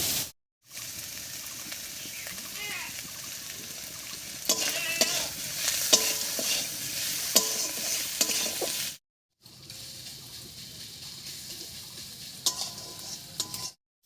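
Dried fish cooks in oil with onion, salt and turmeric, a close hiss of frying with repeated utensil scrapes and stirring clatter, cutting out briefly twice before the sizzle resumes, with no voices.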